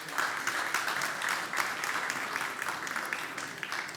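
Steady applause from the audience at a global mushaira, a dense, continuous wash of many hands clapping, heard from a distance and fairly faint.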